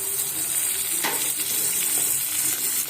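Tomatoes frying in a pan for egg masala curry, an even hissing sizzle at close range with one brief louder stir, no speech.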